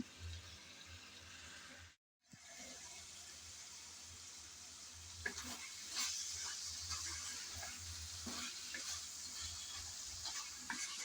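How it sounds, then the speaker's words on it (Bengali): Moringa drumstick curry sizzles in a pan as it is stirred, a steady soft hiss with faint scraping knocks scattered through, after a brief drop near the start. "কিছুক্ষণ নেড়েচেড়ে মিশিয়ে নিলাম"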